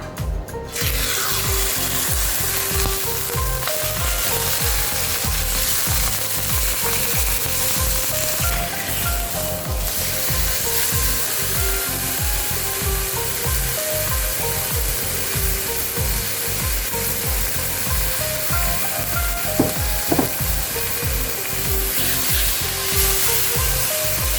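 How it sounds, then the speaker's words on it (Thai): Thin slices of beef fry in olive oil with a loud, steady sizzle and crackle, joined by a rhythmic scraping and stirring against the pan throughout. "เดี๋ยวเรามาทอดเนื้อนะคะ ใช้น้ำมันมะกอกในการทอดนะคะ"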